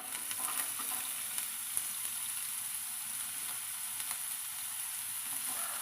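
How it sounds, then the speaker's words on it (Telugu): Finely chopped green chillies, small onion pieces and carrot pieces fry in oil for a manchurian, giving a continuous, even, moderately quiet sizzle with light crackle throughout. "ఆయిల్ వేసుకున్న తర్వాత సన్నగా కట్ చేసిన పచ్చిమిర్చి ముక్కలు చిన్న ఉల్లిపాయల ముక్కలు వేసుకోవాలి"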